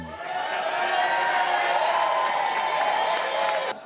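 A large crowd of supporters applauding and cheering at a beard and moustache contest at the Bath Pavilion, a sustained wash of clapping that swells and holds steady throughout, with tonal sound layered over it.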